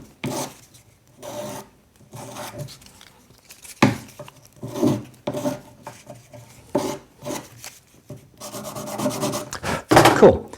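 A buff stick rubs over the slightly rounded edges of a textured metal torque bangle, giving close, scratchy sanding strokes in short irregular bursts with pauses between them.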